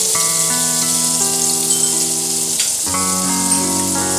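Butter sizzling in a hot pan, a steady close crackle and hiss running through the whole stretch, with sustained tonal music layered over it.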